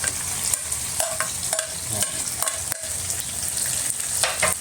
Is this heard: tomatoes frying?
yes